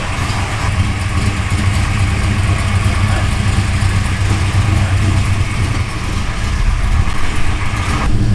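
A Gas Monkey Garage car with a hydraulic clutch idles steadily up close, a loud continuous low rumble running unbroken throughout.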